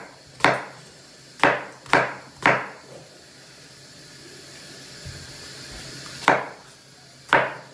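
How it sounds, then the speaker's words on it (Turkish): A knife coarsely chops onions against a wooden board with sharp, close thunks, a few quick cuts, a pause, then two more. "Soğanlarımızı biraz iri doğruyoruz."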